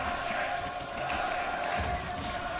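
Esports arena crowd at a 2024 LEC Spring League of Legends match, Fnatic versus GIANTX, a steady broad roar of many voices filling the hall continuously, with a caster's voice talking over it.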